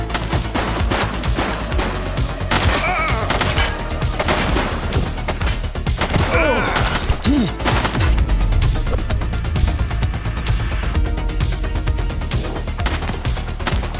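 Bursts of gunfire in The Precinct police game, loud and repeated across a noisy firefight with crashes mixed in.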